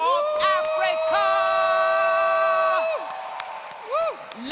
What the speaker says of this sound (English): the loudest, wildest round of applause belongs to the custodians of Africa's future, the youth of Africa